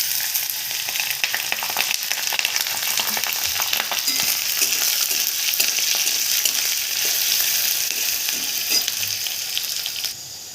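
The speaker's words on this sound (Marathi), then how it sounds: "आता यामध्ये कांदा टाकायचा, बटाटा पण टाकायचा सोबतच" Onion and potato sizzle steadily in hot oil in a pan while poha is being made, a dense continuous frying hiss with occasional stirring scrapes, close and fairly loud throughout.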